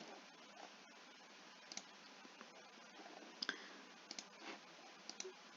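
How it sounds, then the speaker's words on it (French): Faint, sparse clicks of keys being typed while a password is entered on a computer keyboard, with scattered soft taps against a quiet hiss. "il suffit simplement que je tape le mot de passe actuel et que je tape le nouveau"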